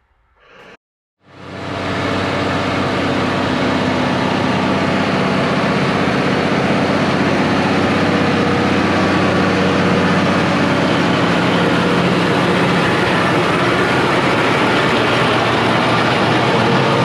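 A loud, steady New Holland tractor's 7.5-liter six-cylinder diesel engine starts abruptly after a brief quiet moment and runs continuously, a heavy low rumble with no talking.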